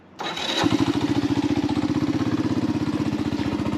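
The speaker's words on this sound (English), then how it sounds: "So this one, turn the key, and got the choke working again, but it has electric start." An old Honda ATV cranks on its electric starter with the choke working, catches quickly, and settles into a steady, fast-pulsing idle, close and loud.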